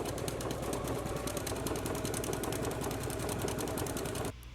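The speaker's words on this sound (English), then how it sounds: "put on your buttonhole foot and go ahead and make a buttonhole now" A sewing machine fitted with a buttonhole foot stitches a buttonhole on a garment, a steady fast mechanical whir with rapid regular needle clatter running continuously and close up before stopping abruptly near the end.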